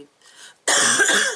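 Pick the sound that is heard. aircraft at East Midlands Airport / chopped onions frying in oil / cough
cough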